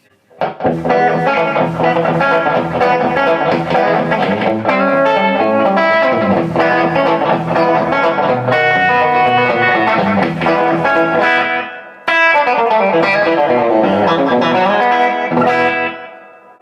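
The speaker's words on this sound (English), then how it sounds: "time for the second preset, which is set to the slap delay here in the X4" Electric guitar through a TC Electronic Flashback X4 delay pedal on a slap delay setting, distorted chords and lead lines ringing with quick echoes, playing continuously and loud with one brief break near the end.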